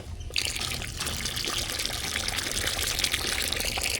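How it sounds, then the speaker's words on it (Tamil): Tamarind water is poured into a pot of sambar in a home kitchen, a steady, continuous splashing trickle close by that runs without pause. "அது கூட லாஸ்ட்டாக வந்து புளி தண்ணி சேர்த்துக்கலாம்"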